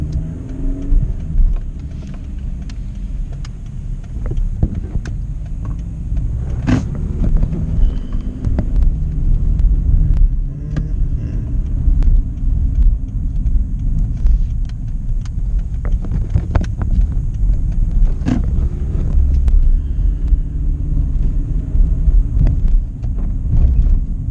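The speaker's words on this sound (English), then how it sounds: "Okay, I'm gonna drive around the block." A car driving around the block, heard from inside as a steady, loud road and engine rumble with wind noise, occasional bumps and clicks throughout.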